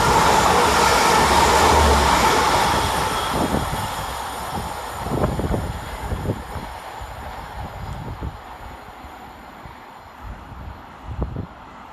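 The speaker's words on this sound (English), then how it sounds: "Next pass through the station is 185147 and 185109, working 1P76 for Transpennine Express from Saltburn to Manchester" A Class 185 Transpennine Express diesel train passes through Burnage station, a loud rushing roar that fades into distance, leaving scattered rail clicks and clunks from the wheels.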